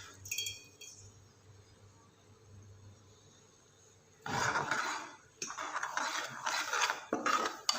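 Semolina halwa roasts in a pan on a low flame, quiet at first, then a spoon scrapes and clinks steadily against the metal as it is stirred up close.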